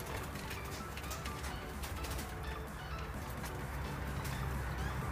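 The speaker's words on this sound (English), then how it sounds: "We've got pied diamond doves." Pied diamond doves in an Australian aviary give soft, low cooing under a dense, steady wash of other birds, with faint chirps and calls throughout.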